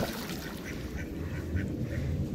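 Ducks quack repeatedly in a noisy flock at a duck farm, the short nasal calls coming close together over a low, steady background rumble.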